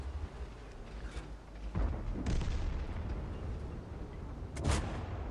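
Tank cannon fire in the World of Tanks video game: a low, rolling rumble broken by two heavy, muffled booms a few seconds apart, fairly faint overall.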